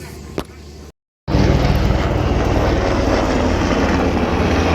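Aircraft engine roaring loud and steady during a flying display at the Bray Air Show in Wicklow, Ireland, cutting in after a brief silent gap and holding through to the end.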